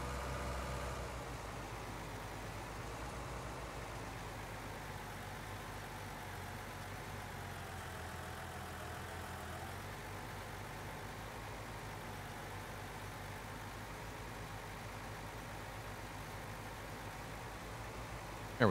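A tractor engine idles in Farming Simulator 19, a steady low mechanical rumble with broadband hiss that holds evenly throughout, no talk over it.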